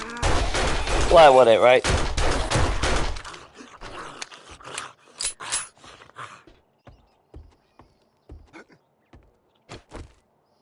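Gunfire in the survival game 7 Days to Die, played on PS5: a loud, sustained burst of rapid shots at the start, followed by someone talking and a few scattered thumps and clatters.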